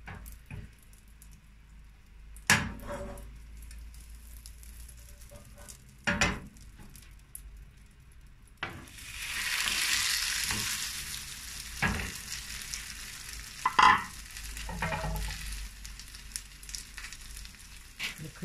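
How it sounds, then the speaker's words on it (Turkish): Cauliflower pieces coated in flour fry in butter in a pan, a steady broadband sizzle that swells loudly midway, broken by sharp clicks and scrapes as the pieces are turned. "Biraz tereyağı koyup tekrardan öbür yüzünü çevireceğim."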